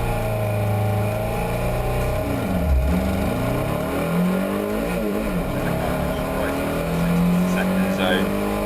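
Steve Pugh's white VW Beetle, the Jack Rabbit, doing a burnout at a VW drag racing event, a loud sustained engine roar with revving swells and tyre noise, with a commentator talking over it.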